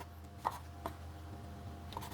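Fresh shiitake mushrooms are sliced with a knife on a board, giving three faint, separate soft taps spread over a quiet background hum.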